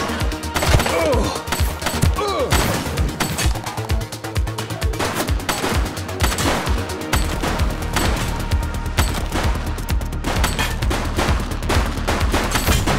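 Rapid bursts of automatic gunfire ring out in the police game The Precinct, loud, dense rattling volleys continuing through the scene with no talk over them.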